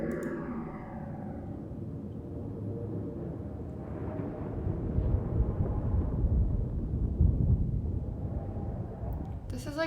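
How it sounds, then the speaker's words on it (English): A distant thunderstorm in The Longest Journey video game, heard as a soft, low rolling rumble that swells gradually and stays far off, with no sharp cracks. "It sounds like distant thunder."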